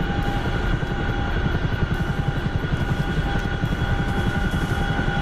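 Chinook helicopter rotors in a video game thump in a fast, even rhythm over a dense, loud engine drone that holds steady throughout.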